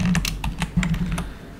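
Keys on a computer keyboard clack in a quick, close burst of typing, about half a dozen crisp taps spread over a second and a half.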